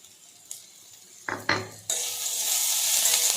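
Onion frying with turmeric and green chilli: a few metal clinks and pan knocks, then a loud, steady sizzle swells up as ingredients hit the hot oil and keeps hissing.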